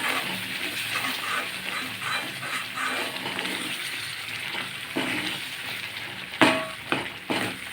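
Steady bubbling and sizzling of a thick green pepper curry cooking in a pan, with a few sharp clinks of a utensil near the end.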